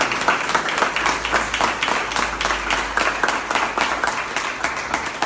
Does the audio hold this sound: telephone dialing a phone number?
no